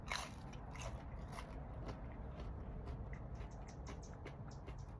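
Faint, close crunching bites and chewing of crisp food made from Oaxacan corn masa, with irregular crackly snaps over a soft steady background and no voices.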